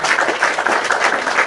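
A crowd applauds for a moment, a dense, even patter of many hands clapping, loud and steady throughout with no voices on top.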